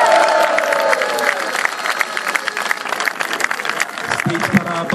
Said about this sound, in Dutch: Een applaus voor nummer 25, Emmanuel Sarki!